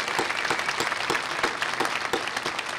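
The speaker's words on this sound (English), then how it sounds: "please stand and allow us to applaud you." Audience applause at a university graduation ceremony, a steady, moderately loud crowd clapping with individual hand claps standing out for a few seconds, no voices over it.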